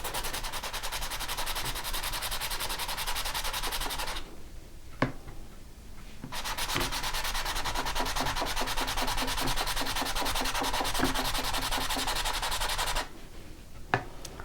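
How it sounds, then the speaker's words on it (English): Continuous rasping scrub of sanding on a cast resin piece with bronze texture, close and steady, broken by two brief pauses, each ended by a sharp tap. "Now that I've sanded this for a little while, you can actually see how I'm starting to pull out some of that bronze texture"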